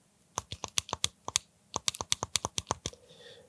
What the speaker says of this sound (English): these buttons are fairly loud